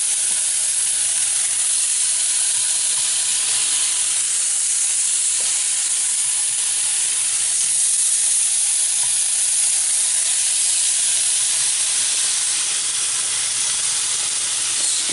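Salmon pieces fry in a hot pan with a loud, continuous sizzle and hiss that stays close and steady throughout, with no talking.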